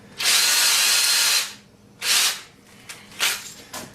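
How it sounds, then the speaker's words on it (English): Power drill spinning a wooden piece, heard in three bursts: a long whine of about a second, then two shorter spins, loud and close with no talk over them. "I'm gonna stick the drill in the end of it."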